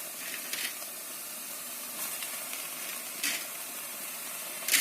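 Meat tipped onto cooked onions in a pot without water or oil for Sudanese mullah umm rigeiga, a steady close sizzle with a few louder hissing bursts as it settles, no talking.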